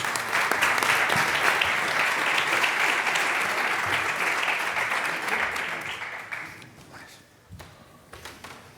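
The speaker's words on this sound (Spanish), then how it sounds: "Un aplauso, por favor, para ellos" A conference audience at a cybersecurity session applauds its panel guests with full, sustained clapping that holds strong for several seconds, then thins and fades to a few scattered claps near the end.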